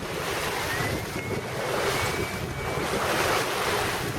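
Ocean waves and steady wind at sea from a boat off Carmen, Cebu, with a dolphin pod about 150 yards off the port side; a continuous broadband wash of surf and wind buffeting the microphone, no talking.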